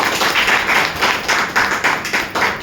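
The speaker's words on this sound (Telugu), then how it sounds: "ఒకసారి మేడం గారి క్లాప్స్ ఇస్తారా?" An audience claps for a woman presenter at a heart-health talk, a steady run of bursts of applause pulsing through the whole moment without voices.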